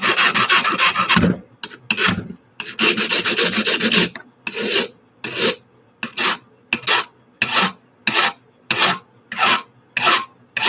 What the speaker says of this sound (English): Fine file.